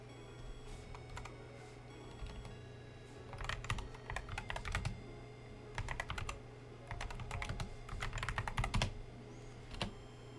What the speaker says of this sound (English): Excuse me for the typing sound.